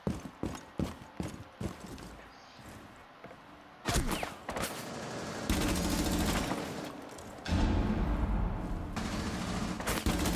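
Gunfire in Rainbow Six Siege, with sharp repeated shots and rapid bursts of automatic fire, loud and close, followed by sustained dense firing and clattering game action, with little or no talk over it.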